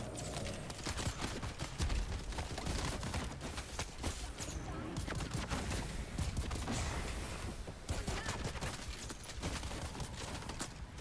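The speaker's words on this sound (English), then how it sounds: "Who the fuck is shooting at me from above?" Rapid bursts of gunfire in Dune: Awakening, coming from above, crackle densely and loudly throughout with dense game noise, with no pause between volleys.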